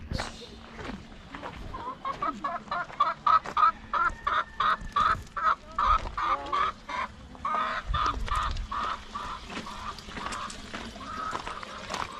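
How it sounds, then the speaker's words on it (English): An Appenzell bearded chicken clucks repeatedly at an open-air museum, a close string of short, choppy clucks and chattering notes that run for several seconds before easing off. "Appenzell bearded chicken"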